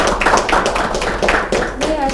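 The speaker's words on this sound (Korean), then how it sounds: "유튜브를 통해서 또 줌을 통해서 끝까지 저희와 마음을 함께 해주신 분들께 우리 다 같이 한번 큰 박수를" Forum audience applause at the close of a 2020 digital twin panel discussion, steady dense clapping throughout, with voices and chatter mixed in.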